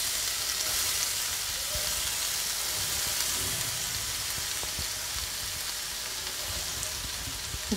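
Grated carrot frying in ghee for carrot halwa, a steady dense sizzle that runs unbroken throughout, with occasional faint clinks of stirring.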